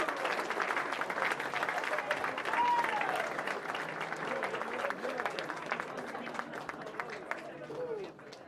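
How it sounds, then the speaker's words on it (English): An audience at an Air Force graduation ceremony applauds, with loud, continuous clapping that holds steady for several seconds and then fades slightly at the end. "Please join me in applauding our Air Force's newest leader."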